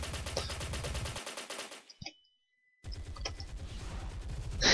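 Rapid automatic gunfire from a weapon in the video game Project M rattles in dense bursts, breaks off into a brief near-silence with a faint click, then resumes just as loud and sustained.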